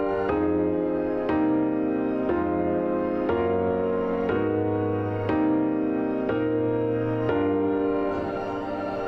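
A sustained piano-like chord progression from music software plays at an even pace, with a new chord every second or so, smooth and moderately quiet, no voices.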